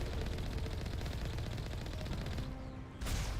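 Rapid automatic turret fire in the video game Mass Effect, a dense continuous burst of shots for about three seconds, a short break, then the firing picks up again, loud with no talking.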